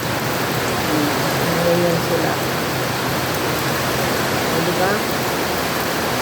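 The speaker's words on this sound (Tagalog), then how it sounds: "puro ulan na lang yan talaga magdamag" Heavy rain pouring steadily all night, a dense continuous hiss of downpour close by, with brief quiet talk under it.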